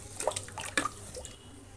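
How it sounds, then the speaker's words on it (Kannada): A cup of jar-rinse water is tipped into a pot of millet pongal, giving a brief splashing pour with a few gurgles and drips that trail off quickly. "ಇದು ಜಾರ್ ತೊಳೆದಿದ್ದು 1 ಕಪ್ ಅಷ್ಟು ಹಾಕ್ತಾಯಿದ್ದೀನಿ"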